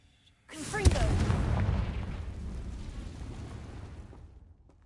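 A fire spell detonates in a fantasy video game: one sudden booming blast with a sharp crack, then a long roaring rumble that slowly fades over several seconds.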